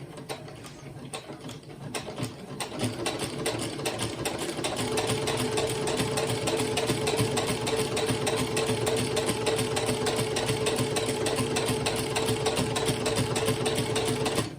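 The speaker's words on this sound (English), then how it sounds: "I'm going to pop my foot down and then I'm going to stitch, and I'm going to go nice and slow and steady." A sewing machine stitching a quilt at a slow steady pace, its rapid needle clatter rising from quiet to a loud continuous run after a few seconds, with no talk.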